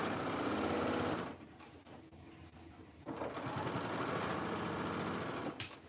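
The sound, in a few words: sewing machine stitching a dress side seam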